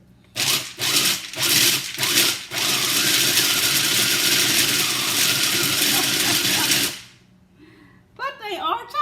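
A food chopper whirs through chocolate in several short pulses and then one long steady run before stopping, loud and close, followed by a brief voice.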